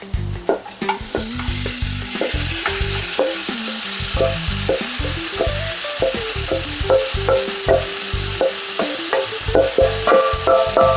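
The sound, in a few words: green beans sizzling in a hot pan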